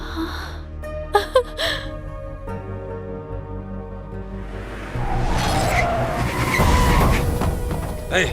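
A car in an action movie arrives with a rising engine roar and skidding, squealing tires, loud and close, after quieter music-like tones.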